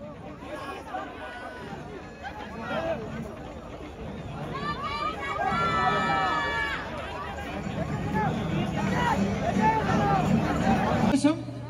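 Large audience at a Pongal celebration in Dubai cheering, shouting and whistling as a celebrity guest is welcomed, a dense continuous roar of crowd noise that swells in the middle and builds again toward the end.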